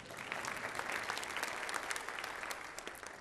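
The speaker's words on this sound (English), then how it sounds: "You can clap for that." An audience breaks into steady, dense applause for a couple's upcoming 20th wedding anniversary, a continuous wash of many hands clapping at even loudness, heard alone without talk.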